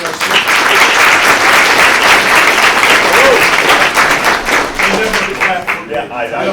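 An audience applauds a hospital CEO at a university capstone presentation, dense sustained clapping that fills the room loudly before thinning out toward the end, with voices mixed in.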